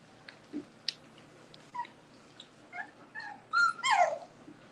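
Boerboel puppies, 35 days old, whimpering and yipping in short, high, scattered cries that grow louder and more insistent toward the end, close by over a quiet background.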